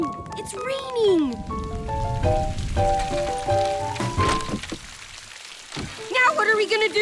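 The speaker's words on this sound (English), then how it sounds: "Oh no! It's raining!" Cartoon rain starting to fall, a soft patter on surfaces mixed with musical tones and animated character voices speaking over it.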